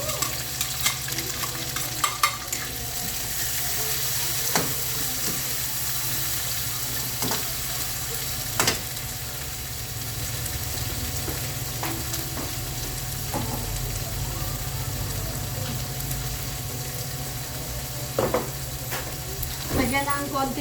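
Pink salmon sizzles steadily in a frying pan while being stirred, a constant close hiss with scattered scrapes and clicks of a utensil and a few faint voice sounds underneath.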